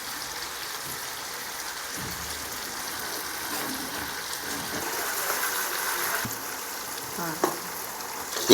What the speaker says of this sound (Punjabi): ਹੁਣ ਚੰਗੀ ਤਰ੍ਹਾਂ ਨਾਲ ਇਹਨੂੰ ਰਲਾ ਲੈਣਾ ਭੁੰਨ ਲੈਣਾ ਜਰਾ ਕੁ